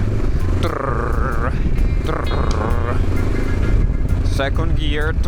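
Honda NX650 Dominator motorcycle in second gear on a mountain trail, its engine a close, continuous low thump that rises and dips slightly with the throttle, while a rider speaks over it.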